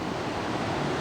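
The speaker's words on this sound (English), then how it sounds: "these waves, the ones out there, are 20 feet tall" Large ocean surf breaking off the coast of Hawaii, with waves around twenty feet tall; a steady, broad wash of crashing water and wind fills the whole stretch without any voices.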